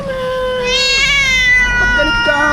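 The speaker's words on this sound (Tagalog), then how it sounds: "galit yung pusa." Angry cat gives a long, drawn-out yowling meow close by, loud and wavering, its pitch sliding and rising, then settling into a sustained growling cry, with a faint voice at the edges.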